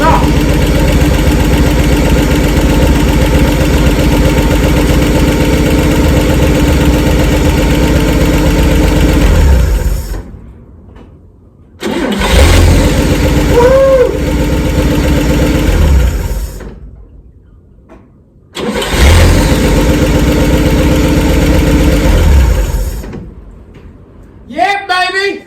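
A 1959 Chevy Parkwood wagon engine runs loud and close with a steady idle, cuts off, is restarted and runs again, cuts out once more, and a brief voice comes near the end.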